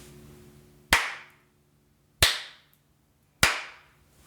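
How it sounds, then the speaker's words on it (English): Three sharp, loud hand claps, very close, spaced roughly a second apart, each with a short ringing decay into near silence. "I'm going to clap your little ears off."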